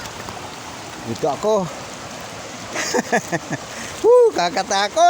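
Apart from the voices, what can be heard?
strong current of the San Mateo river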